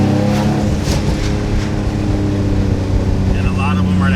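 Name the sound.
turbo noises from a 700hp Infiniti G35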